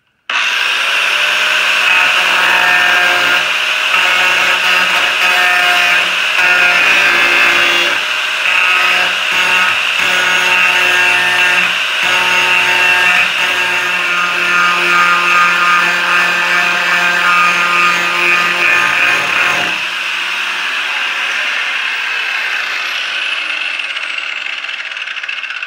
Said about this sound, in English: we got the grinding wheel back on the grinder, and we're gonna grind our studs off.